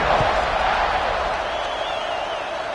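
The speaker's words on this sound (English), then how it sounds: "this crowd is buzzing after that last score" A football stadium crowd at a Tennessee game buzzes after a score: a steady, dense wash of many voices cheering and murmuring together, heard from within the stands.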